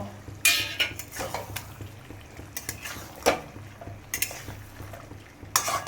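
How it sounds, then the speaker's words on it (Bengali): Potato pieces tipped into a pan of mutton, followed by several sharp clanks and scrapes of a spoon against the metal pan over a low sizzle, close up, with no one talking. "এবার আমি আলুটা দিয়ে দেব।"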